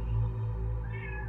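A cat meows in a drawn-out, plaintive tone, one fairly quiet call nearby with a low background hum, no talking.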